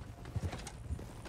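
Horse hooves clip-clop at a walking pace in Red Dead Redemption 2, fairly faint and steady with a few firmer hoof strikes over a low background.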